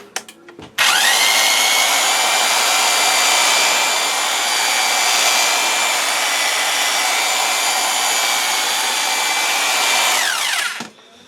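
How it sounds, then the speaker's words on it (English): A corded electric drill runs steadily at high speed for about ten seconds, a loud constant whine that starts abruptly and winds down at the end. "So we're using Old Faithful here. Plug-in. The plug-in drill."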